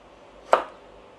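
A kitchen knife slices through vegetable stems for Thai fried rice with pork: a single crisp chop, close and clear, against a quiet room.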